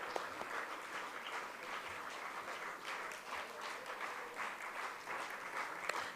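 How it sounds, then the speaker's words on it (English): A sizable audience at a foundation day event applauds steadily throughout, a moderate, continuous wash of many hands clapping with a few sharper claps standing out. "Can we have a big round of applause?"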